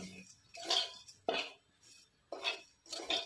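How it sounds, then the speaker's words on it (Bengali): Four or five separate scraping strokes of a utensil stirring vermicelli frying in a pan, with brief quiet gaps between them and a faint dry sizzle. "সেমাইগুলো নেড়ে চেড়ে ভেজে নেব"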